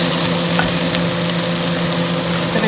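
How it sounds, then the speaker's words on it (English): Vegetables for an Indian spiced ratatouille simmering in a pan, a loud, close, continuous bubbling sizzle with no breaks. "Vegetables are nicely simmering"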